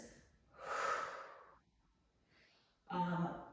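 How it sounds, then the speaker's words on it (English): Two strong breathy exhales during a no-crunch abdominal exercise, a long one early and a shorter one near the end, close and fairly quiet with a faint breath between them. "And this is where my exhale is."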